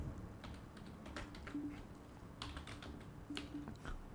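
Quiet clicking of keys on a computer keyboard, typed in short irregular bursts with small pauses between them, fairly faint against a low background hum.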